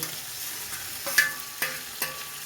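Fried okra sautéed in a pan with salt, turmeric and sugar for a mustard okra dish, a steady close sizzle broken by three sharp scrapes or taps of a spatula against the pan.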